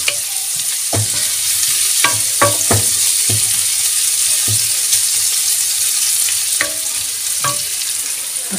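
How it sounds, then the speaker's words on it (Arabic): Onions fry in oil in a pan for khizou mcharmel, carrots in a spiced sauce. A loud, close hiss runs throughout, broken by repeated knocks and scrapes from a utensil stirring. "البصلة كتشحر"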